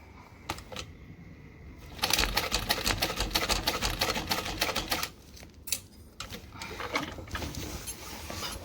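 A sewing machine stitches through waterproof canvas in a rapid mechanical clatter, starting with a few isolated clicks, then running in steady loud bursts with brief pauses between them.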